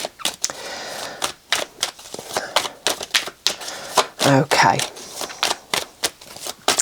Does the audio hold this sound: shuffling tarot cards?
yes